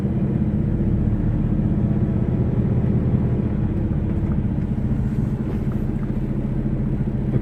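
A truck creeps forward slowly during a pretrip inspection, its engine giving a low, steady rumble that stays close and even throughout.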